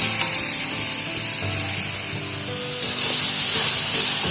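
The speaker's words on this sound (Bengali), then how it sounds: "এবারে খুব ভালো করে মোচাটা কষিয়ে নেব।" Banana flower is stir-fried with spices, soaked chickpeas and peanuts, giving a loud, steady frying hiss close by, with occasional light knocks and scrapes as the mixture is turned. No talking is heard.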